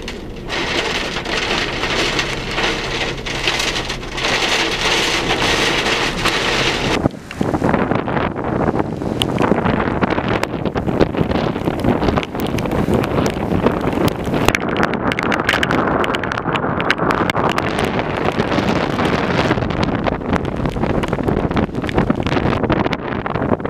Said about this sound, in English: It's up there in the rain.